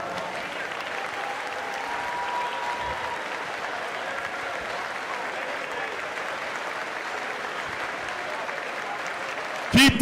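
Spectators in the gallery at a YMCA national short course swimming championship applaud seniors, a steady, fairly distant wash of clapping and crowd noise in a reverberant pool hall, with a brief loud burst at the end.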